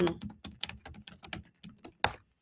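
Close, clattering typing on a computer keyboard, a quick irregular run of keystrokes with short pauses between bursts, alone without talk.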